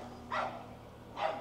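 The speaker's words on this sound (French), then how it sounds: "Il est en train de s'étouffer, le chien à côté." A neighbouring dog gives two short, muffled barks about a second apart, distant and faint over a steady low hum.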